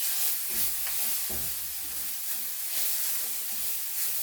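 A mixture sizzles in a pan for Lyonnaise potatoes while a utensil stirs it, giving hissing sizzle and a few soft scraping strokes throughout, no talking.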